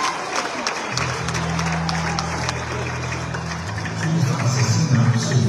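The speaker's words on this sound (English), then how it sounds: "Let's give a warm welcome and a round of applause for Sir Bryan George." Applause fills a hall at a Pasifika rugby hall of fame ceremony as a legendary inductee is welcomed, a steady wash of many clapping hands that swells louder near the end.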